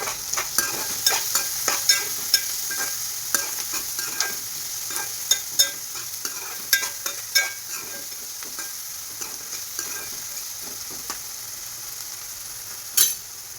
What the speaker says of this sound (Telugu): ఉల్లిపాయలు వేగేటప్పుడే తగినంత సాల్ట్ వేసుకోవాలి కొంచెం పసుపు వేసుకొని తిప్పాలి